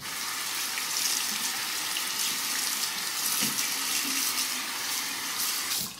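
A bathroom tap runs steadily for a rinse during a wet shave with a Merkur 47C safety razor, a constant close hiss of flowing water that stops abruptly at the end.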